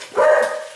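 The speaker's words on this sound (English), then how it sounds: "my dogs are going crazy" One of the household dogs gives a single short, loud bark up close, set off by a doorbell ringing.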